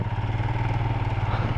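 A motorcycle engine labours uphill in North Sikkim, with a steady, throbbing low rumble, close by and straining under load.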